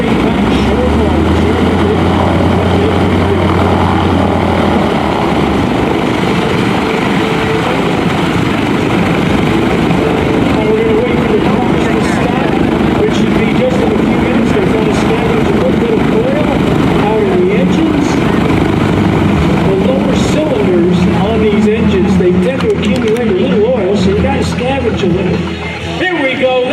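Propeller engine of an old warbird airplane roaring continuously at the Leesburg airshow, loud and close with a steady droning rumble that swells toward the end, with an announcer talking over it.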